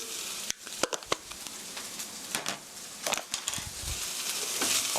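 Meat and onions for mapo tofu sizzle and crackle steadily in a hot pan, with irregular scraping and clicking from stirring over a dense, continuous hiss.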